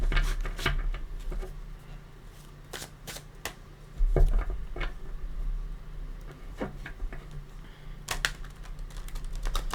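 Tarot cards being shuffled by hand: scattered crisp taps and slides repeat over a steady low hum, close by, with no one speaking.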